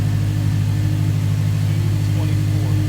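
An Acura TSX with a Type S pump and a 3-inch exhaust runs on a dyno, giving a steady, loud, droning engine note that holds at an even pitch throughout.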